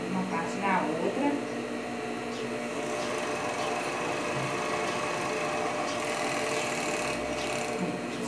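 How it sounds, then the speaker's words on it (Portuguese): An overlock sewing machine joins two pieces of fabric with a continuous close, rapid mechanical whir, while someone talks over it. "Um overlock, vocês vão emendar no overlock, uma parte na outra."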